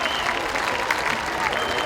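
Spectators at an axemen's wood chopping relay clap and cheer steadily, a dense, continuous wash of applause with raised voices mixed in, fairly close and even throughout.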